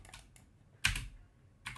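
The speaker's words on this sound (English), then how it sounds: "I can type in zoom and then hit S for selected" Computer keyboard typing a command in Rhino, a few quiet keystrokes followed by one firmer key press and another tap, close and isolated.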